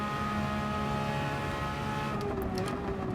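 Race car engine in Gran Turismo 7, a loud steady harmonic drone that drops to a lower pitch near the end as the car slows into a braking zone, continuous with no talk.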